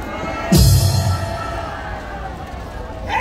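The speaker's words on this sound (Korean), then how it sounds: "다시 한번 큰 박수 부탁합니다" A large crowd at an outdoor political rally bursts into applause and cheering, starting with a sudden loud swell and holding as a steady, dense wash of noise.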